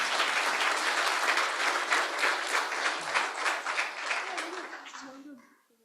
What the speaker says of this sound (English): Just one more round of applause